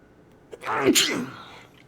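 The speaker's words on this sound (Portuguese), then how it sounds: "Espirrar." A single loud, close sneeze with a sharp inhale and then a burst, heard alone with no speech.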